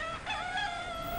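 A rooster crows on a farm, one drawn-out call that is fairly loud and close and runs for just over a second with no talking.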